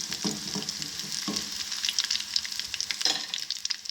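Garlic sizzles in three tablespoons of ghee as it turns golden, a steady bright crackle with scattered spoon scrapes and stirring knocks close by, no talking.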